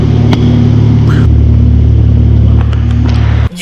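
A Subaru is driven on the Nürburgring circuit. Loud, close engine rumble drones continuously with a steady tone and a few brief clicks and knocks, then cuts off abruptly near the end.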